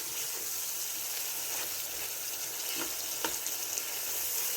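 Cauliflower and potatoes sizzling in a frying masala, a constant bright crackling hiss near the pan, broken by a couple of sharper spatters and light stirring clicks, with no talking.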